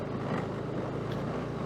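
A motorcycle engine straining on a steep uphill mountain road, a steady, loud broadband drone with low rumble and wind buffeting, continuous throughout with no talk.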